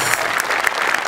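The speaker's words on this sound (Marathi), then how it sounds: "मी उभं राहून टाळ्या वाजवू इच्छितो या क्षणी." Studio audience bursting into steady, dense applause during a Marathi comedy show, loud and continuous across the whole short stretch with no voices on top.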